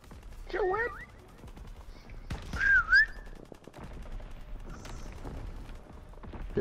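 Gunfire in the video game Call of Duty WWII during a Prop Hunt match, scattered shots and bursts with whistling game effects, loud and busy, heard alone without talk.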